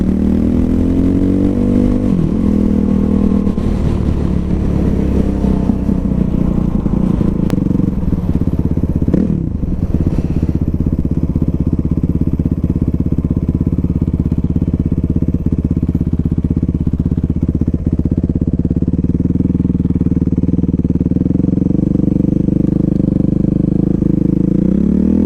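Suzuki RMX450 supermoto motorcycle on a test ride, its single-cylinder engine droning loud and close throughout, revving up early, then holding a steady rumble with wind and some clatter.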